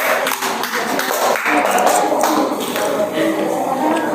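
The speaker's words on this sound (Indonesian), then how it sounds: "Beri tepuk tangan untuk teman-teman kalian." A classroom of university students in a micro-teaching economics session applauds a student group, with a short burst of scattered clapping mixed with background chatter.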